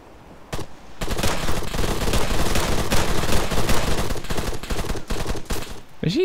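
Rapid gunfire in the video game Arma 3 rattles in dense bursts for several seconds, loud and continuous, with scattered sharper shots. No one speaks.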